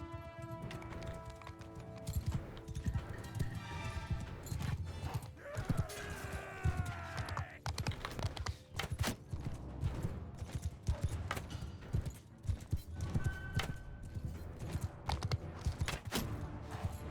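Horses gallop across a battlefield in Mount and Blade, a continuous drumming of hooves with neighs and clashing noise, heard close and dense throughout.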